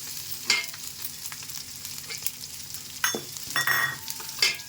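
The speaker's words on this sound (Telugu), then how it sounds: "కొంచెం ఫ్రై అయ్యాక ఇలా మిరపకాయలు కొంచెం బ్రౌన్ కలర్ వచ్చేరాక గోలించుకోవాలి." Chillies and cumin seeds fry in hot oil until brown, a steady close sizzle with scattered crackles and a few sharp spoon scrapes against the pan.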